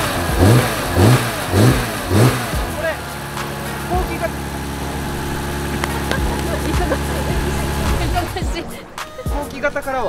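A BMW M3 with an electronic throttle gives several sharp, rhythmic revs up close. Its engine then drops back to a steady idle while people talk nearby.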